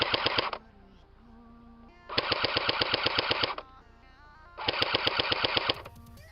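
Three bursts of rapid automatic fire from a FAMAS F1 airsoft rifle, each lasting over a second, with quiet pauses between them; crisp, close, steady clattering shots.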